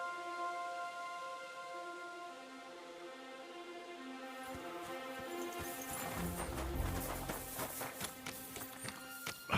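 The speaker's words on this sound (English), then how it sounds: "The horses are here." Horses clip-clop in the video game Kingdom Come Deliverance, hooves sounding about halfway through as irregular close taps over a sustained musical background.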